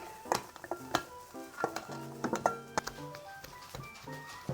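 Steamed purple sweet potato being mashed for a filling, a close series of irregular clinks and scrapes of a utensil against a bowl with soft squishing in between, no voices.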